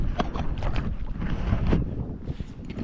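Wind blows outdoors on a fishing trip, a continuous rough buffeting rush across the microphone, near and moderately loud with no talk over it.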